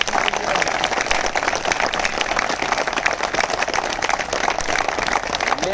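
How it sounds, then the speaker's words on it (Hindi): Audience applause at a live event, a dense, continuous wash of many hands clapping at an even loudness throughout, with no talk standing out. "बहुत कमजोर तालियां हैं"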